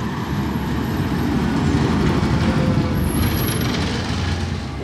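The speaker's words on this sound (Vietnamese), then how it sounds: "Xe máy cày." A tractor engine rumbles past on a rural village road in France, a loud steady low drone that fills the whole stretch with no talk over it.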